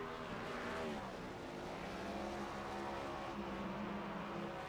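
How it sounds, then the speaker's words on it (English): Next Gen Cup race car doing celebratory burnouts in a racing video game, a continuous loud engine roar with revving pitch sweeps and tire noise, no talk. "You can see our leader doing those burnouts he oh so deserves."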